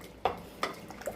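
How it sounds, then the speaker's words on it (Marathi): A spoon mashes boiled drumstick soup ingredients inside a pressure cooker, producing two distinct metallic clinks and a softer tap against the vessel, quiet and close with no talking. "या चमच्याने पूर्ण आता आपण असं मॅश करून घेऊया असं."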